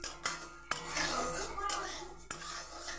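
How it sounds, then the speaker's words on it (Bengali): Moong dal being dry-roasted in a pan, a spatula scraping and clinking against metal with a few sharp knocks over a soft rustling sizzle, close and fairly quiet, without talk. "এই দেখুন আমার ডালটা ভাজা হচ্ছে"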